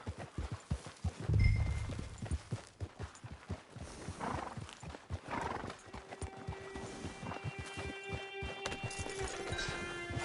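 Horse hooves clip-clop in a video game, a steady walking rhythm of close thuds, with a whinny partway through and a low camp ambience and faint tones toward the end.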